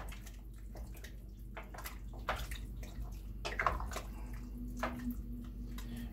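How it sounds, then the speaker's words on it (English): Beef stew is stirred in a pot, giving soft wet squelching and scraping sounds at an uneven pace over a steady low background hum. "So now I'm going to give that a good stir."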